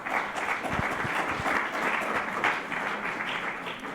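A seated audience at a panel discussion on integral ecology applauds, a moderately loud, even patter of many hands clapping continuously for several seconds, heard from within the room.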